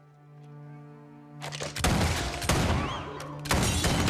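Gunfire in a Western film scene, a loud burst of overlapping shots and booms erupting after a sustained low tone, then continuing in dense, rough volleys with a brief lull before another blast.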